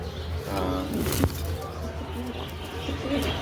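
Pigeons at a Bangladeshi bird sale coo in low, repeated throaty rolls close by, with a sharp click and faint chirps mixed in and someone talking at times.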